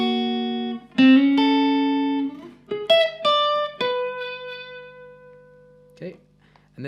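The second guitar part of a song: a short melodic phrase of clean, distinct plucked notes, some bent or slid, ringing out close and clear, then a few soft muted strums. No talking.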